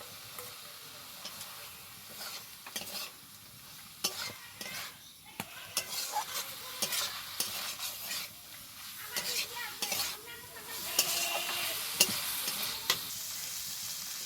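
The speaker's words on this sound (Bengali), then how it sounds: "এবার এই ভেজে রাখা ঢেঁড়সটা দিয়ে একটু নেড়ে চেড়ে জল দিয়ে দেবো" Fried okra stirred into spice masala in a pan: quiet sizzling with repeated scraping strokes of a spoon against the pan, continuing at an irregular pace.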